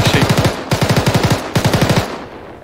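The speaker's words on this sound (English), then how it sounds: "was trying to shoot through the wall there, but apparently this building just absorbs all bullets" Loud, close automatic gunfire from the video game Arma 3 comes in three rapid bursts of evenly spaced shots, then a short fading tail.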